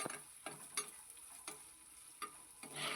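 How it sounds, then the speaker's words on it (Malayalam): Chopped onions sautéing in a hot pan, a steady sizzle with a few sharp stirring clicks and scrapes spaced through, close and fairly quiet, no voices. "സവാള ചേർത്ത് ഒന്ന് നല്ലപോലെ ഒന്ന് വഴറ്റിയെടുക്കാം."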